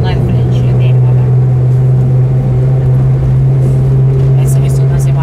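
A Mazda's V6 engine revs in a tunnel, a deep, droning hum with strong low resonance, held steady and loud and echoing in the enclosed space, with faint voices underneath.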